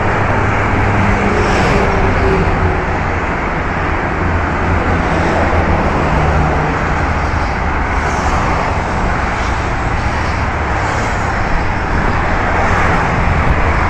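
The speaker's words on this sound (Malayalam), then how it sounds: "വണ്ടികളൊക്കെ വളരെ പതുക്കെയാട്ടോ പോയിക്കൊണ്ടിരിക്കണേ." Steady road traffic on a Dubai street at night, cars creeping slowly past in a continuous loud rumble with faint whooshes of passing vehicles, no talking.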